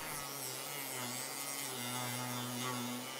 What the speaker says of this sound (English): I use the Dremel to mark the expected depth of the cutting disc.